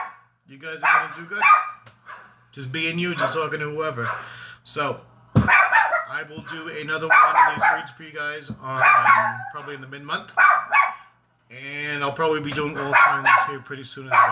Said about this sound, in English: let me go put a muzzle on my dog